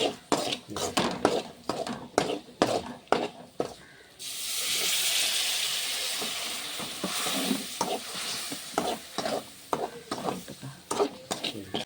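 Vinegar goes into a pan with chili for Kerala-style tuna (choora) fish pickle, a steady liquid hiss and sizzle lasting several seconds, framed by sharp spoon-on-pan clinks and stirring scrapes before and after.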